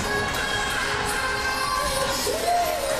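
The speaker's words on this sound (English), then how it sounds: "Lots of applause from the Saints crowd here in Arrington." Arena crowd at a St. Scholastica Saints women's hockey championship game cheering and applauding steadily, a loud, dense wash of clapping and shouts with a whistle-like tone near the end.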